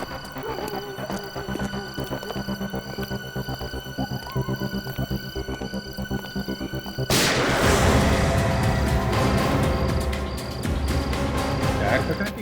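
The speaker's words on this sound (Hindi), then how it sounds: "यार पता है कि गोली चलने की आवाज है।" A steady humming drone gives way midway to loud, rumbling gunfire that keeps going under dense noise, with voices mixed in.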